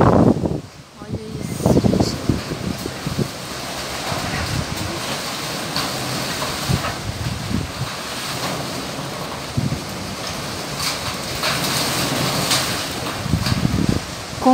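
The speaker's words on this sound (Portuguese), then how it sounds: "E hoje o vento tá demais." Strong bomb-cyclone wind during a storm in Curitiba buffets and roars steadily across the microphone, with gusty rustling and occasional louder bursts throughout.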